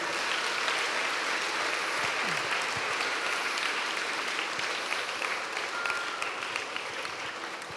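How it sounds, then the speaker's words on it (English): Sustained audience applause at a school annual awards ceremony, a steady dense wash of many hands clapping throughout without pause, fairly distant and even in level. "So another round of applause for all of those."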